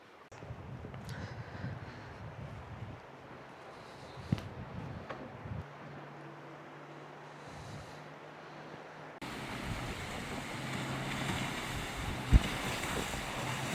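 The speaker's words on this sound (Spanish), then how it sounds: "son del departamento de bomberos, estas lanchas" Fire department motorboats on a volcanic river canyon, their steady low engine drone running throughout, heard outdoors amid wind noise and rushing water, growing louder and rougher in the second half.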